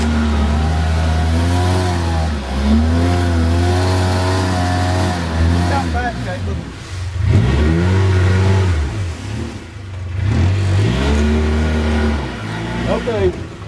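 A Polaris Ranger 700XP side-by-side running off-road in four-wheel drive, its engine revving up and down in repeated surges close by, with a person talking over it.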